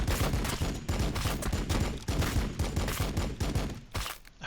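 Rapid volleys of gunfire from units in the strategy video game Warhammer 40k Battle Sector, dense overlapping shots and impacts in a steady rhythmic barrage, loud and continuous with no talk.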